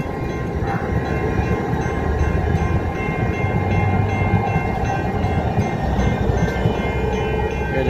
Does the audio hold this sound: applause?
no